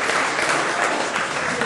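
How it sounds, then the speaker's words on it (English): Audience applause at a DemoCamp tech demo event in Edmonton, a dense, steady wash of many hands clapping close and loud throughout, with no voices over it. "How about a round of applause for Cam, Reg, and Scott?"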